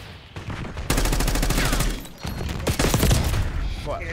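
Rapid pistol gunfire from the video game Black Ops 6 rattles in dense, loud bursts with a brief break, mixed with game noise and voices.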